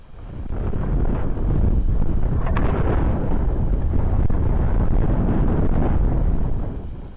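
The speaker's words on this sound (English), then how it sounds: "Blowing 20 knots of wind." Strong, gusty wind of about 20 knots buffets a microphone outdoors after an aircraft's forced landing, making a loud, continuous low roar that swells and persists for several seconds with no voices.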